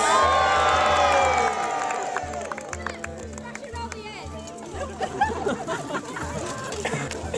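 A crowd at a knights-themed family show cheers and chatters, loudest at the start and then settling into a steady hubbub of mixed voices with scattered shouts.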